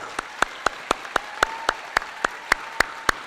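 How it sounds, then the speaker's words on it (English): Clapping at the LA Mode 2018 fashion show comes as about a dozen sharp, evenly spaced claps in a steady rhythm, crisp and close over a low background hum. "Let's give everybody a round of applause for all of them."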